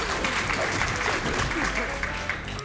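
An audience claps steadily throughout, a dense, even wash of applause from a crowd at a live speedrunning event, with faint background voices mixed in.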